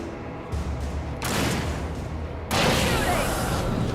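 Gunfire in the Alan Wake video game, with a few heavy blasts standing out over a dense rumbling backdrop, loud and close.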